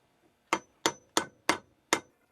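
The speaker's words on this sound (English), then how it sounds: "And I hammer this flat" Five crisp, evenly spaced hammer blows flatten a small piece of metal for the legs of a pileated woodpecker whirligig, each a sharp close clang with a quick decay and quiet gaps between.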